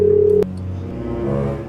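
A telephone being dialed to call someone gives a held tone that cuts off with a click, followed by a lower steady tone, short and fairly close.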